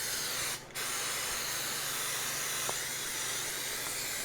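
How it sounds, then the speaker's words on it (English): Pam cooking spray sprayed into a 9 by 13 casserole dish: a close, continuous aerosol hiss with a brief pause early on, over a low kitchen hum. "I'm going to spray it with Pam."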